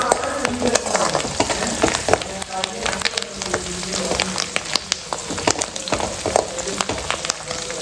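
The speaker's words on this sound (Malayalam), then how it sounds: "അപ്പോൾ നമ്മുടെ ഈ ഇഞ്ചി വെളുത്തുള്ളിയൊക്കെ ഒന്ന് മൂത്ത് വന്നിട്ടുണ്ട്" Chopped ginger and garlic fry in hot oil in a pan, a continuous close crackling sizzle with sharp spitting pops scattered through it.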